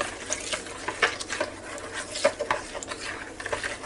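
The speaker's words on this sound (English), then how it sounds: "stir that together a little bit" A spoon scrapes and swishes through mushroom soup and green beans in a bowl, with soft irregular wet clinks and stirring strokes at close range.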